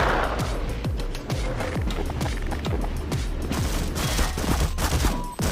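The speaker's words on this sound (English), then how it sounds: "Stop shooting me" Half-Life on the Source engine produces sustained, loud gunfire: rapid overlapping shots and bursts with sharp echoing cracks that continue nearly without pause.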